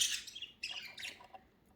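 Budgie giving a quick run of faint, close squawks and chirps, with short shrill bursts and brief pauses in between; no one talks.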